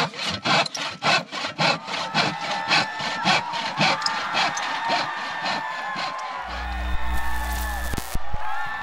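Plywood is sawn by hand outdoors, with a close, rhythmic series of rasping strokes that quicken and then give way to a steady mechanical hum near the end.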